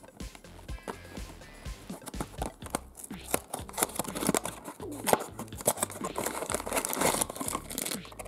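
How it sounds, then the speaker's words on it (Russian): Crinkly plastic wrapping of a Barbie Sweet Box surprise package being handled and torn open, a steady busy rustle and crackle with sharp tearing bursts throughout, close up and fairly loud. "И первый сюрприз откроем — коробочку свитбокс Барби профессии."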